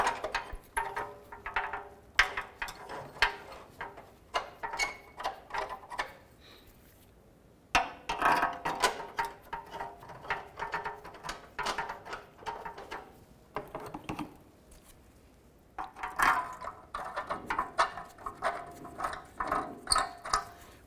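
Ratchet clicking in quick bursts while bolts are started on the front driveshaft of a 2005-10 Jeep Grand Cherokee during a CV joint rebuild, close and moderately loud with short pauses between runs.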